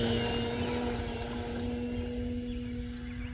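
A Nosen Citabria 40 RC model airplane flies on a calm, windless, overcast day, its engine giving a steady, unbroken drone that holds at an even, moderate level throughout.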